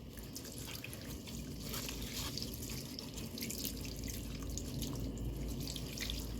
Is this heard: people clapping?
no